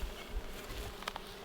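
Honey bees buzz at a hive fitted with pollen-collecting boxes, a steady low hum filling the short stretch with a few brief louder passes close by.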